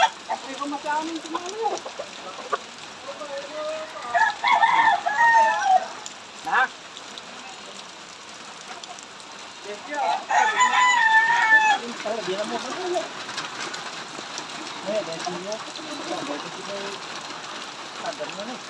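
Roosters crow and chickens cluck in a Philippine yard, several loud calls rising in bursts with quieter clucking and background noise between them, and people talk nearby.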